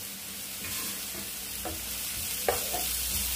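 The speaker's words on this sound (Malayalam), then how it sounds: "കളറൊന്നും മാറണ്ട, നന്നായിട്ടൊന്ന് വാട്ടിയെടുക്കുക." Vegetables sauté in a pan for bread roll filling, a soft steady sizzle with a few brief scraping stirs of a spoon, close and quiet, with no voices.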